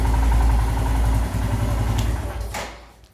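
A Royal Enfield Himalayan motorcycle engine idles at about 1250 RPM after an idle-screw adjustment, a steady low throbbing rumble heard close up and alone, fading slightly toward the end.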